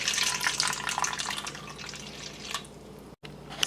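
Warm water pours steadily into a pot for bread dough, a continuous close splashing stream with a brief cut near the end.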